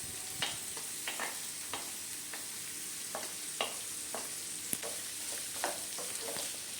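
Chopped beetroot being stirred in a frying pan for pickle, with a steady hiss of frying under repeated sharp scraping strokes of the spoon, spaced irregularly and heard up close.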